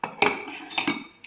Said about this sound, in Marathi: आता झाकण लावून घेऊया.